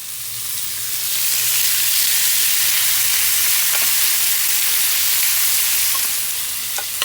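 Chicken pieces sizzle and fry in oil and butter on a grill, a steady loud crackling hiss throughout with faint clinks of pieces being set down.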